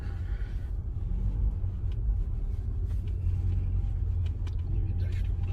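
A car drives slowly along an untracked snowy road outside town during a heavy blizzard, its low engine rumble and muffled tyre noise steady and close throughout, with no talking.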